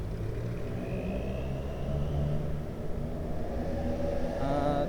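Heavy road traffic with trucks and jeepneys on a bridge in the Philippines, a steady loud rumble of engines and tires near the microphone with a rising whine of a passing vehicle toward the end.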